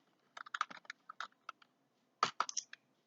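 Quick bursts of typing on a computer keyboard, light close clicks in short irregular runs with a brief pause in between.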